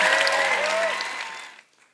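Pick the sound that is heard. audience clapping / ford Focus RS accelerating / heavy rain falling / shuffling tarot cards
audience clapping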